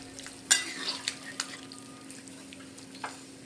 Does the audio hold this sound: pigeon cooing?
no